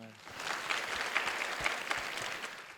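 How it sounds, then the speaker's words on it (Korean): Audience applause after a chamber music performance at a Shakespeare festival in Chuncheon, steady dense clapping filling the whole stretch at moderate level, with a brief tonal note fading at the very start. "다시 한번 큰 박수 부탁드립니다"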